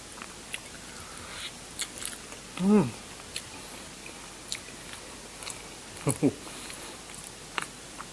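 Crunchy durian is eaten with close, crisp bites and chewing crunches scattered across several seconds, with brief vocal murmurs of enjoyment in between.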